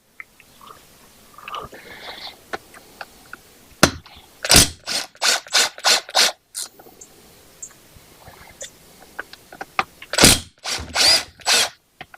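Short bursts of a power tool whirring on a 1966 Honda 305 Scrambler engine during teardown, about ten spaced pulses in two clusters, with quiet clinks and rustling of work between them.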